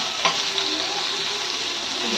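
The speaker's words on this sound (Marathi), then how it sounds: "तेल गरम झालं ना की त्याच्यामध्ये आपल्याला ही मिरची घालायची" Stuffed green chilies drop into hot oil with a sharp splash, then settle into a steady, close sizzle that crackles on without talk.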